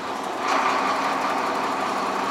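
A truck engine starts and idles with a steady, buzzing mechanical drone that swells slightly early on, then holds even and close.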